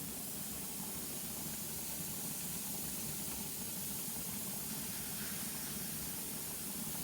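A pressure canner loaded with raw-pack chicken vents steam in a loud, continuous, steady hiss that stays even throughout, with no talking.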